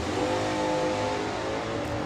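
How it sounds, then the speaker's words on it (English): A Volkswagen drag racing car launching off the line at a 2021 drag race, a loud, continuous engine roar and rasp holding steady throughout. "It's just that throat-clearing noise of these cars when they leave is lovely."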